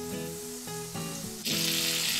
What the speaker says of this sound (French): on va prendre notre beurre et on va venir juste le mettre dans la poêle pour qu'il fonde très vite